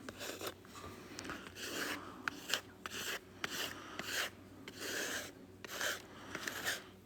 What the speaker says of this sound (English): I'm just scraping every which way. It's scraping lovely over the vellum too.